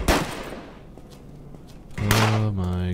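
Gunshots in the Fort Zombie video game: a sharp loud shot at the start and another heavy blast near the end, with a low humming tone lingering afterward.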